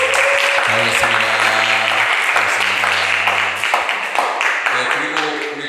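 A church congregation at a Sunday worship service applauds to welcome visitors, a dense burst of clapping that continues steadily for several seconds while someone speaks over it.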